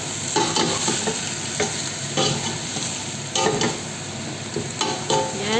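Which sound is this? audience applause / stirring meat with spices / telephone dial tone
stirring meat with spices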